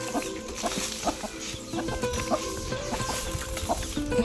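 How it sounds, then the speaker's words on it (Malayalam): Chickens cluck in short, repeated bursts at close range, several birds overlapping in an uneven rhythm over a busy outdoor background. "ആ കോഴി"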